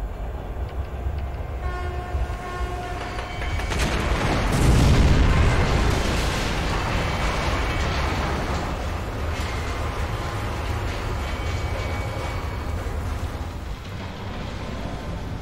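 Train rumbling past with a loud boom partway through, in the video game Metro: Last Light; a steady roar builds to a dense low-heavy peak, then sustains as a continuous rolling rail noise without speech.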